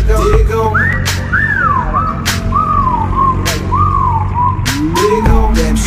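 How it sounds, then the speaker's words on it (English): Flirtatious wolf whistles in a song: a string of rising-and-falling whistled notes repeat over a thumping beat, loud and upfront. "Okay, time to whistle at her."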